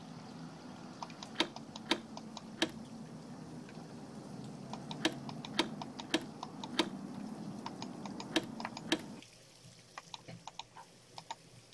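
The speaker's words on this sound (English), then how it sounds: "Looks like I should type a message using my own keyboard." Keyboard typing in the Nancy Drew: Danger by Design game, sparse individual key clicks tapped at an uneven pace, soft and close over a low room hum that drops partway through.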